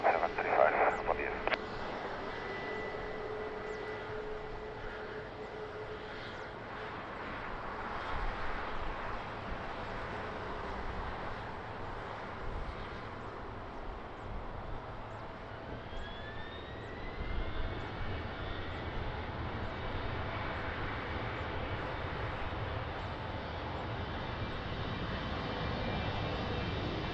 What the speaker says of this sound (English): C-130, Portuguese Air Force.